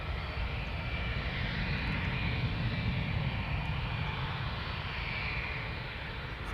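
Boeing 777 jet engines at Schiphol Airport, a steady, loud broadband roar holding level throughout with a faint high whine, as the airliner taxis off the runway.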